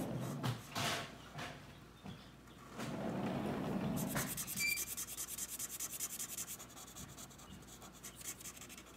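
Hand coloring of squares on paper, scratchy rubbing strokes of a colored pencil or marker, close and fairly quiet, coming in short bursts early and then a steady stretch of repeated strokes.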